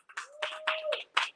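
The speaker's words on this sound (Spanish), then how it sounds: "Dale un aplauso fuerte" A church congregation at a Sunday service in Kissimmee applauds in short, uneven bursts of clapping, with a sustained tone running underneath the first half.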